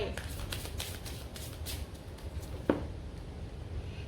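Tarot cards are drawn and handled, giving soft papery brushes and flicks with one sharper snap midway, close and fairly quiet over a low background hum.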